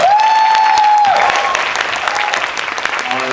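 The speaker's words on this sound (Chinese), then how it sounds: "请大家掌声鼓励一下" Loud, sustained applause from the audience at a film premiere, steady dense clapping filling the space for several seconds with a faint tone riding over it early on.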